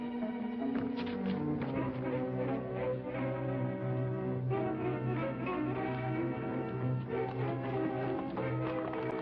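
Horses gallop with rhythmic, quick hoofbeats under a swelling orchestral music score, the clip-clopping sustained and moderately loud throughout.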